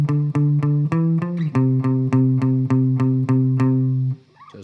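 Electric guitar plays a steady eighth-note riff from a song, a run of evenly spaced picked notes that shift pitch partway through and ring out alone, close and loud.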